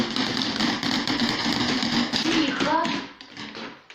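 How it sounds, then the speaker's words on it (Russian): Young children in a preschool lesson tapping cardboard boxes with toy axles, a busy stream of quick, overlapping light taps that fades near the end, with an adult voice speaking over it. "А давайте попробуем по коробочкам постучать."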